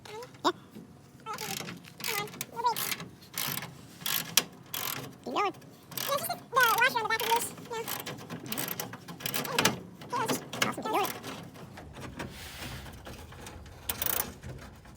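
A ratchet with a half-inch socket works on a radiator bolt, giving repeated bursts of quick metallic clicking and knocks in an uneven rhythm, with faint voices in the background.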